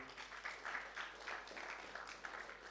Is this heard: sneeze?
no